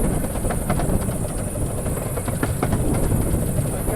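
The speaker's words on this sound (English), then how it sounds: "Time to slow the train down." Miniature steam train of the Romney, Hythe & Dymchurch Railway slowing on the approach to New Romney, a steady close rumble of running gear with faint rhythmic clicks over the rails, continuous and even, no talk.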